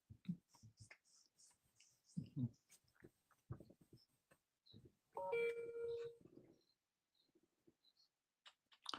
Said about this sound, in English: I heard a bell or something. Oh, yeah, my WhatsApp.